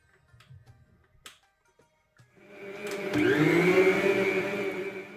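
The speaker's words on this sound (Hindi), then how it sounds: "मिक्सर को मैंने 2 से 3 मिनट के लिए ही इसमें चलाया है।" An electric mixer on low speed whirs steadily for several seconds after a few quiet clicks and bumps, its motor hum loud and close.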